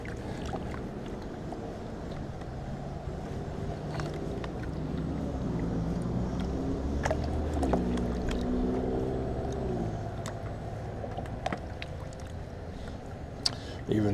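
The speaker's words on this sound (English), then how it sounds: "safety pan, so I'll pan it out now. I can go pretty fast on this." Desert gold prospecting material is swirled with water in a safety pan, producing a continuous soft sloshing and swishing with occasional small taps, close and fairly quiet.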